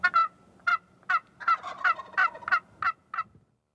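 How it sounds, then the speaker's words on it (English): Wild turkey gobbling in the breeding season, a clear series of rapid rattling gobbles and clucks in bursts, fairly close and loud against a quiet woodland background. "turkeys are easily fooled by turkey calls"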